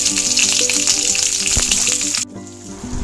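Drumsticks, radish, potato and papaya fry in hot oil for Bengali shukto, giving a loud, dense, close sizzle with a low hum. The sizzle drops suddenly near the end and then starts to rise again.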